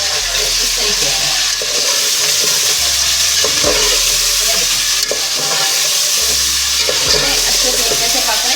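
Garlic frying over high heat in a pan for chicken nihari, a loud, continuous close sizzle with bursts of scraping and stirring every couple of seconds, no talk over it.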